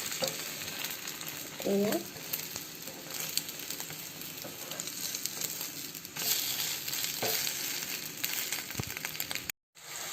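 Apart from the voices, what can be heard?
spinach cooking in a pan for an omelette dish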